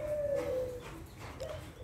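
Thai and Malay spotted doves coo in a steady, clear call over a low hum, with a second brief coo near the end.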